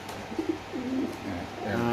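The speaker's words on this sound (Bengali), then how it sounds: "একদম টপ কোয়ালিটির বোম্বাই কবুতর ভাই একদম গোলাপ জুটি ভাই" Bombay pigeons coo on a pigeon farm, with several overlapping low, rolling coos close by over steady background noise.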